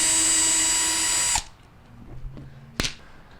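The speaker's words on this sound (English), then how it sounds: "we're going to go ahead and completely remove this screw here, the one that goes to the blower housing" A power drill backs a screw out of the blower housing of a Whirlpool dryer, a loud steady whir for over a second that cuts off abruptly, followed by quiet handling clicks and a sharp knock.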